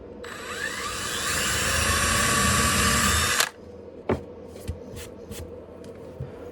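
A power drill boring a pilot hole through a bookshelf part whirs steadily for a few seconds, then cuts off abruptly, followed by a few sharp clicks and knocks nearby.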